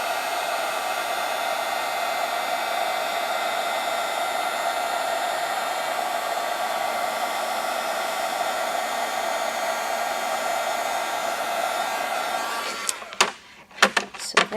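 A heat tool blows a steady, loud whirring hum while melting gold embossing powder onto a Christmas card greeting, running unbroken for about thirteen seconds before switching off with a few clicks and handling knocks.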